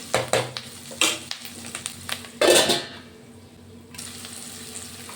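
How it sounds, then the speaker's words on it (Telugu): Food cooking in a pan is stirred with a utensil, producing a series of sharp scrapes and clinks against the pan over a soft sizzle, with a louder burst of frying midway. "ఇలా మధ్యలో కలుపుతూ ఉడికిందా లేదా చూసుకోవాలి"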